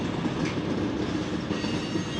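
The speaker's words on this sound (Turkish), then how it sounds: "Bir tane yük treni var. Sanırım vagonları ayırıp toparlamaya çalışıyorlar." Freight train wagons are shunted at a large station, producing a steady rumbling roll of wheels on rail, moderately close, with faint metallic squeals riding over the continuous noise.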